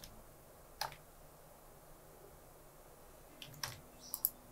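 A few quiet, sharp clicks from a computer mouse and keyboard during Photoshop editing, one isolated tap early and a small cluster of clicks toward the end against a faint background hiss.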